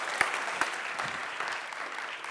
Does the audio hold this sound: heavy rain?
no